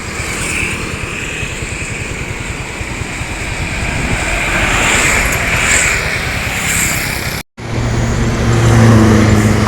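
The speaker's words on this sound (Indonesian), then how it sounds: "Ada Rosin ya, Rosalia Indah. Berangkatan Rosin dari Palembang ini menuju arah Pulau Jawa ya" A Rosalia Indah intercity bus heading from Palembang toward Java passes on the eastern Sumatra highway: a loud, steady roar of engine and tyres that builds slightly, cuts out for an instant, then returns close by.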